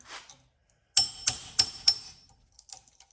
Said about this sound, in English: the tool that I use for stripping down my fan motors